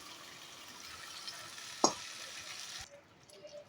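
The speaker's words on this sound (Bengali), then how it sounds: "এবার বেটে রাখা মশলাটা কিন্তু আমি দিয়ে দিচ্ছি।" Ground spice paste goes into softened tomatoes frying in a pan for a vegetarian Bengali jackfruit and chana dal dish, with a soft steady sizzle, one sharp clink of a utensil, then quieter frying.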